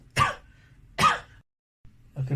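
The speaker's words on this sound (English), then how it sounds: "So you're coughing with pink foam color, so I can conclude that your cough is a productive one." Two loud, close, wet coughs, each a short harsh burst, from a man in cardiogenic shock bringing up pink frothy sputum, followed by a quieter third sound.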